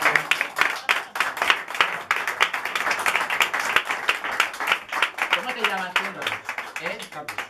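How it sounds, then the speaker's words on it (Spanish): Audience clapping at a cabaret show in a bookshop venue, a steady round of applause for about six seconds before a voice starts talking over it as it fades. "Un fuerte aplauso para Paquito."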